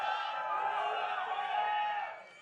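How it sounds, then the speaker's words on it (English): Broad, sustained applause from a large audience at a League of Legends esports match, NA LCS 2018 Spring, steady for about two seconds before tapering off. "You deserve the applause."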